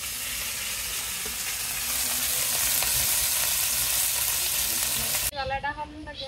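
Fish frying lightly in a pan, with a loud, steady sizzle and the scrape of stirring for most of the clip before the frying abruptly gives way to a voice speaking.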